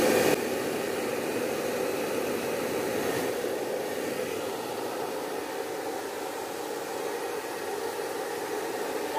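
A hair dryer blows steadily to dry a child's hair, a loud, close, constant whooshing roar with a faint motor whine, unbroken from start to finish with no talking.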